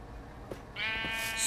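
A video game sheep lets out a thin, wavering bleat after a soft thump, heard faintly against a quiet background with no talking.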